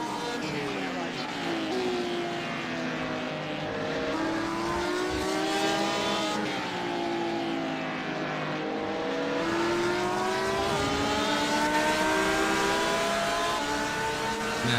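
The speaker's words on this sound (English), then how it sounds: "Man, I love the sound of these cars." Race cars in the iRacing sim at Sebring 12 Hours roar continuously, engines rising and falling through gear changes with layered whining tones, steady and loud throughout.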